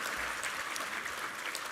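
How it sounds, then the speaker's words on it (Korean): Dense, steady applause from a large church congregation during a Sunday service, many hands clapping at once and filling the room evenly without pause. "우리 하나님께 감사와 영광의 박수 올려드리겠습니다."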